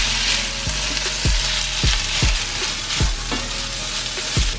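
Egg, meat and onion are stirred together in a hot frying pan, loud continuous sizzling broken by a regular series of sharp scraping and tapping strokes from the spatula, close up and with no talking.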